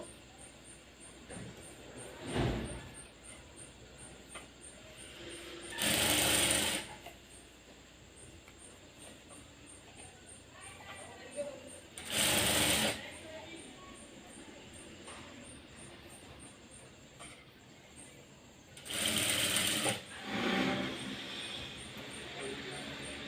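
Sewing machine stitching a blouse while attaching a sleeve, three short, loud whirring runs of about a second each, separated by quieter stretches.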